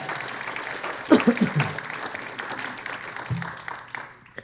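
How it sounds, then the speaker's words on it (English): A short burst of applause from an audience at a candidates forum rises and fades quickly, with voices talking over and after it. "let's give a round of applause for that question"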